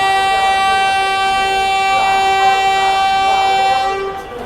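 The Dehradun Express sounds a long, steady horn blast while departing Hazrat Nizamuddin railway station in Delhi, loud and close, fading out at the end.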